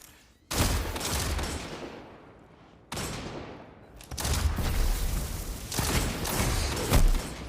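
Loud gunfire bursts from a Destiny Crucible match, with sustained rapid shots, a brief pause around three seconds, then more continuous fire with sharp peaks near the end.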